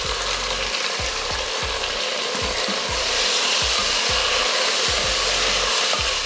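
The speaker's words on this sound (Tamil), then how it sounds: "நல்லா தக்காளி எல்லாம் நல்லா வதங்கிடுச்சு" Tomatoes with onions, mint and coriander sautéing in a pan for a biryani, giving a steady loud sizzle with a rhythmic series of low scraping stirs throughout.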